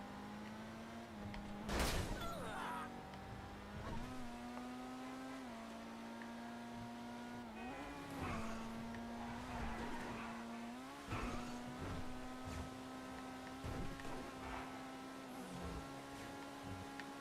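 A supercar driving in GTA Online, its engine holding a steady drone with brief revving swells and shifts, plus a sharp skid or impact burst early on.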